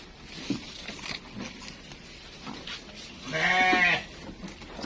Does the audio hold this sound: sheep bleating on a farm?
yes